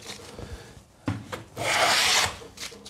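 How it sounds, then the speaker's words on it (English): A hand plane is pushed along wood on a shooting board against a planing stop, peeling off shavings: a couple of short rasping strokes, then one longer, louder, bright hissing pass near the end, close up with no talk. "So I can simply put it up against this planing stop and I can pull shavings off."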